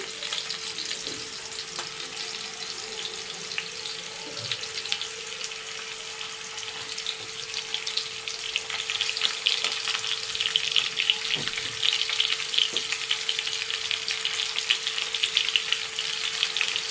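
Chanduva fish pieces fry with onions in a pan, giving a steady, close sizzle with crackles that grows a little louder over time, alone with no talk.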